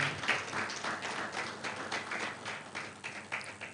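Another round of applause from a conference audience in Nigeria, even crowd clapping that continues briefly, moderately loud, with no talk over it.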